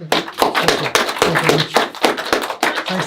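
Round of applause from a small audience after a film festival interview and Q&A, uneven bursts of close hand claps with brief voices between them.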